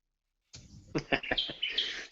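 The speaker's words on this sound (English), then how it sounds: "it's just heading on dusk here, so yeah, all the birds are getting ready to go to bed." Birds at dusk chirp and tweet softly in quick, high calls, faint and somewhat distant, mixed with low voice-like sounds.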